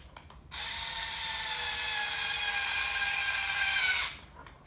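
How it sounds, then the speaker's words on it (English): A power driver screws an 18mm threaded bolt into position on a 3D printer frame built from an IKEA Lack table: one steady, high whirring run of about three and a half seconds that starts abruptly and stops cleanly, with no talk. "Screw that into position, test that's nice and tight"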